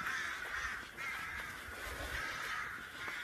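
Crows caw loudly and continuously near a castle in Garrykennedy, Ireland, a dense overlapping chorus of harsh calls that fills the whole stretch without talk.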